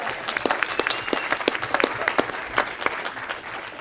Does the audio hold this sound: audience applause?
yes